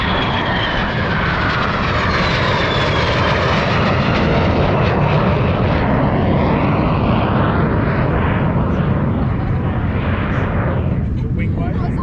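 A small Cessna aircraft passes low overhead, its engine drone loud and continuous, rising and then easing away, with people talking underneath.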